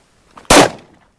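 A single sharp shot from a Glock 17 RTF2 full-size 9mm pistol cracks close and loud, with a short decaying tail and no talk around it.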